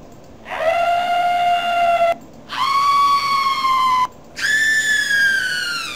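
Scream sound effect from an RPG Maker VX Ace horror game, three long, loud, piercing wails, each rising higher in pitch, separated by brief pauses.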